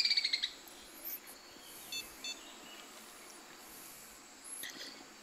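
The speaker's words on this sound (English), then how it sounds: "Seriously strange sounding birds." Strange-sounding birds in the saltwater area of the Fishing Planet fishing game: a quick, bright trill of chirps opens, followed by scattered faint calls over a steady, hissing, insect-like background.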